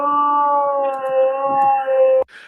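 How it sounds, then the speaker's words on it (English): A dog howling in a played recording, one long, steady, tonal howl lasting about two seconds that cuts off abruptly, loud and close. "That is a dog howling."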